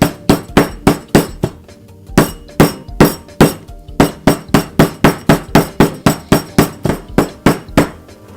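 A hammer pounds a pork chop for country frying in a home kitchen: dozens of rapid, loud, close thuds in quick rhythmic bursts with a faint clink, separated by brief pauses.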